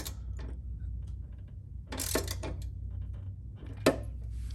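A ratchet wrench clicks in short bursts while the belt tensioner bolt is snugged down on a Can-Am Spyder RT, with close, crisp metallic ratcheting and a sharp clack near the end.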